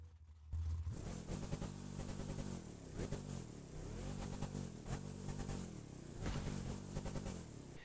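The Proto HuP One Clumsy Edition car in The Crew 2 revs and accelerates repeatedly, its engine note climbing through gear after gear in rising sweeps, loud and continuous with no talking.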